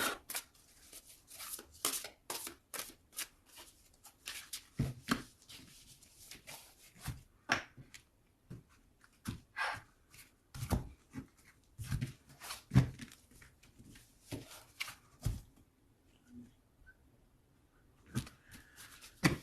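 A deck of tarot cards is shuffled and cut by hand, giving bursts of close papery riffles and flicks in an uneven rhythm, with short quiet pauses between handfuls.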